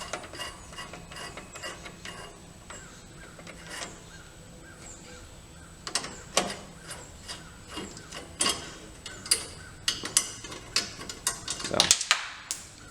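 Ratchet removing a threaded screw from a headlight on a third-generation Toyota 4Runner, heard as rapid clicking pawl bursts that grow denser and louder toward the end, close up, with brief talk between the bursts.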